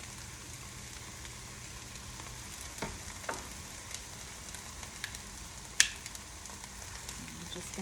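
Vegetables with about a quarter cup of teriyaki marinade sizzle faintly and steadily in a pan, with a few soft clinks and taps from stirring.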